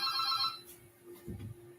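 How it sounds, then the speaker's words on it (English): A telephone rings with a bright warbling tone, a short burst that cuts off before a soft low thump. "I'm having a phone call."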